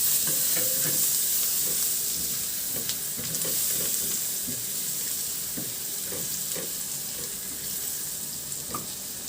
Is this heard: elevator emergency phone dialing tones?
no